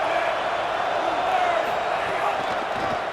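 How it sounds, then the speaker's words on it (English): Home crowd noise from a video football game, a UCF at UCLA college matchup, forms a steady, loud roar throughout, with sustained cheering and no distinct breaks. "Now this home crowd making life difficult."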